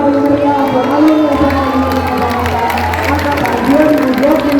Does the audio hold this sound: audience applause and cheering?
yes